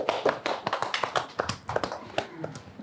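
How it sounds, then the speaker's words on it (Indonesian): Studio audience clapping, a sparse, irregular patter of individual hand claps, fairly close and moderate in level, with no voices over it. "Tepuk tangan dong,"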